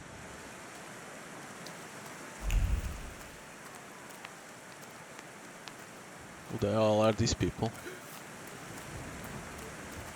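Steady rain falls in the video game The Thaumaturge, a constant hiss with a low rumble of thunder, while someone talks over it.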